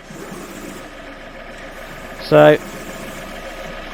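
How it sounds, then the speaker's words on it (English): A Fiat Punto EVO engine idles with a low, steady hum that runs unbroken throughout, and a single short spoken word cuts in partway through. "Right, so engine's running."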